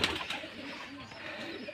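Soft, low cooing from pigeons kept at a farm in Bangladesh, faint and a little distant, with a few gentle rising calls over quiet background.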